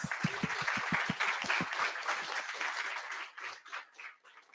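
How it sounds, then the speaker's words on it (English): Audience applause for a presenter at a show-and-tell event, opening with a few distinct claps that blend into a moderate smattering of clapping, then tapering off toward the end. "big round of applause for Surya, please"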